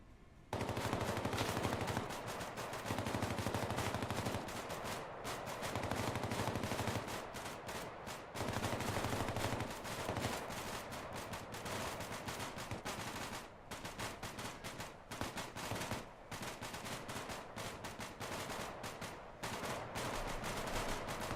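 Sustained gunfire throughout a squad-level tactical training session in a military shooter game, with dense, near-continuous machine-gun bursts and overlapping rifle shots over about twenty seconds and only brief gaps.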